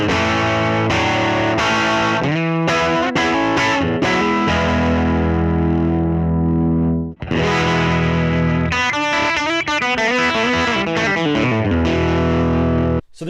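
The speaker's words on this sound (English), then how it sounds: "Here's just the drive." A Telecaster-style electric guitar runs through the drive side of an Origin Effects MAGMA57 pedal, giving loud, sustained, gritty chords and single-note runs with one brief break midway. There are no voices.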